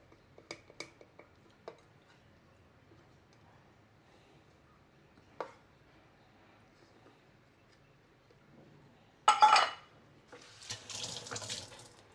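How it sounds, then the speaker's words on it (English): Cold water with ice is poured into a food chopper holding fish meat and prawns for homemade fishballs: a few light clicks and knocks, then two short splashing pours close by near the end, with no talk. "We can put in a bit of water here, ice. This is cold water."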